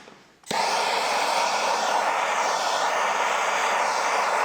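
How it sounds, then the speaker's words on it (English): A torch flares on and then roars steadily and loudly at close range, heating metal on a V12 engine before welding, with no pauses and no talking. "I am just adding a bit of heat to the area that I'm trying to clean"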